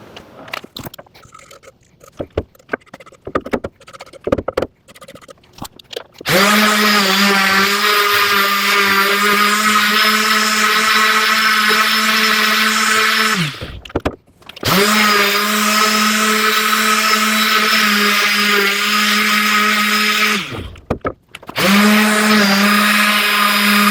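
Power tool cross-cutting 6-inch wooden lengths for Kubb pieces and sanding, loud steady whining bursts that run several seconds each, broken by short pauses, after quieter scraping and handling noises.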